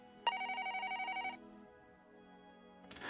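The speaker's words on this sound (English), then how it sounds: "The phone on the desk rang," Desk telephone in the Higurashi visual novel game ringing with a bright electronic trill, a rapid pulsing burst lasting about a second, loud and close, followed by a quieter tail.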